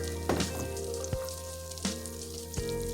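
Butter sizzles and fries steadily in a pan, with marshmallows being stirred in and a few soft knocks from the spoon against the pan.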